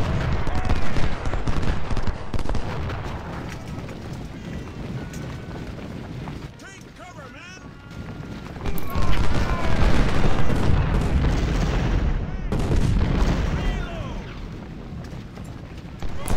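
Cannon artillery in the Civil War strategy game Ultimate General booms in repeated heavy volleys and crackling musket bursts, loud and dense, swelling and easing over time beneath someone speaking.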